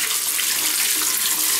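Rusty water purged from a boiler heating system pours into a bucket, a steady close splashing stream that runs evenly without a break.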